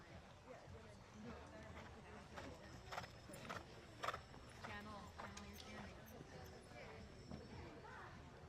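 A thoroughbred horse canters through a four-star dressage test at Morven Park, its rhythmic hoofbeats thudding steadily and fairly faint under a commentator's continuous talk.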